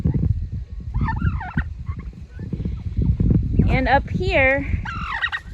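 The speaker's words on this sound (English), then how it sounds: "we have our meat turkeys, our Thanksgiving turkeys" Free-range meat turkeys raised for Thanksgiving gobble on a farm, several loud warbling calls toward the end, with someone speaking briefly over steady outdoor noise.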